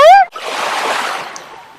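Sea waves wash onto the shore at Jomtien Beach in Pattaya, Thailand, a close, broad rushing surge that follows a brief high voice at the start.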